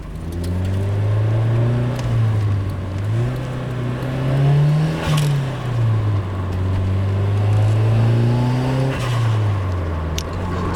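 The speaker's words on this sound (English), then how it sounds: "so you guys can hear it does rev up and spool up nicely" A turbocharged Nissan 180SX Sileighty engine revs up and down in repeated sweeps, with a turbo whine rising and falling over a steady loud drone, close by.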